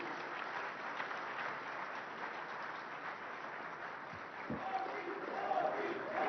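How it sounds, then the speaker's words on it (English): A summit audience gives Prime Minister Narendra Modi a round of applause as he comes on stage, a steady, fairly distant wash of crowd clapping that holds evenly throughout. "please give a huge round of applause to the man with the Midas touch, Prime Minister Narendra Modi"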